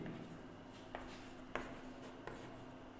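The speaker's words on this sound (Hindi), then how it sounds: "चलिए पहला लिखते हैं" Writing on a board during a physics lecture: faint, steady scratching with a few sharp taps as strokes begin, close by and quiet, with no talking.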